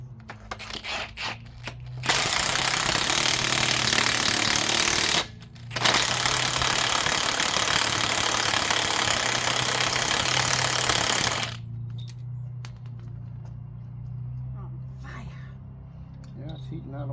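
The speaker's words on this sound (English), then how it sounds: "And then I use the power of Milwaukee." A Milwaukee power tool runs a nut onto a thread on a Jeep engine, roaring loud and close in a long buzzing burst with a brief stop, and faint speech sounds before and after.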